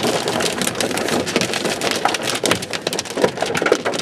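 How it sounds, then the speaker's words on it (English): Hail pelting down hard during a Kansas storm, a dense, loud, continuous clatter of ice striking surfaces close by, steady throughout with no voices. "I thought I saw the hail shaft,"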